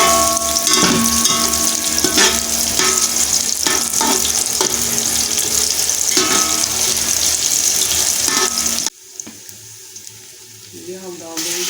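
Almonds and raisins fry in a pan for carrot halwa, making a loud sizzling crackle with stirring clatter. The sizzle drops away sharply near the end, leaving faint kitchen sounds.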